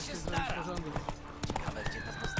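Horse hooves clip-clop in a rhythmic, moderately close patter in The Witcher 3: Wild Hunt, heard under someone talking, with occasional other game sounds.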